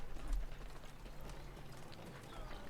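Bandits' horses riding in during a video game, a steady clip-clop of hooves carrying on through the whole stretch at moderate distance over a low rumble of game noise.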